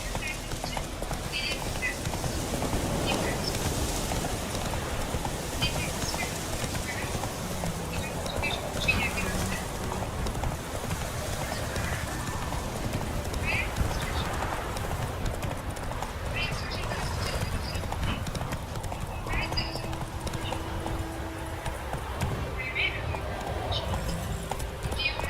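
Roach, the horse in the video game Witcher 3: Wild Hunt, gallops with steady, continuous hoofbeats and occasional whinnies over ambient game sound throughout.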